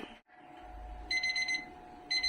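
A kitchen timer rings while carrots and potatoes simmer for chicken afritada: a bright, repeated electronic beeping that starts in a half-second burst, pauses, then resumes, loud and close with no talking.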